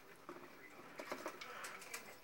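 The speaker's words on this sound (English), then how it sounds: "aren't the birds beautiful?" Pet birds, likely doves or pigeons, cooing and chirping with soft fluttering and shuffling movement, a steady close chorus of small calls and rustles without speech.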